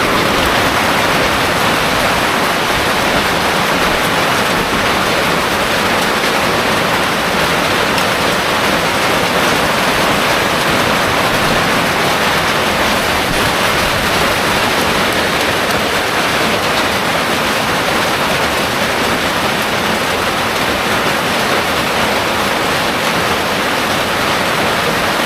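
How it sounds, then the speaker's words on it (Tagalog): Heavy rain pours steadily and loudly during a typhoon at a hanging tree house under construction, a dense unbroken roar without a break for the whole stretch. "Nabutan pa ng ulan."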